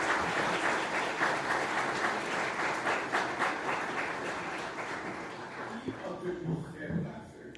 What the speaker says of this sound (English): may I have a big round of applause for your parents